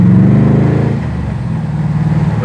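A Morgan Plus 8 with Piper 270 camshafts is driven on a wet road, its engine revving in a throbbing, pulsing burble that dips and then climbs again, loud and close.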